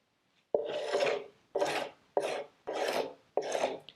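A scraper dragged across clamped wooden drawer boxes to remove glue, five distinct rasping strokes in an even rhythm, close and loud with short pauses between them.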